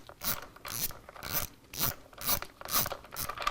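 A hand ratchet on a 7/16 socket clicks in about seven even, rhythmic bursts, up close and alone, backing out breather bolts that hold a motorcycle air cleaner back plate to an S&S cylinder head.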